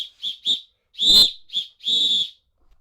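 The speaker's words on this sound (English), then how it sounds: "That's a good whistle." A safety whistle for trail running blown hard in five loud, shrill blasts: two short toots, a long blast, another short one and a final long blast, with silence between them and no talking.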